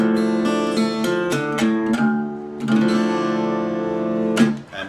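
Acoustic guitar strummed on open strings in open D-minor style tuning, several ringing strums that sustain and decay between strokes, close and alone.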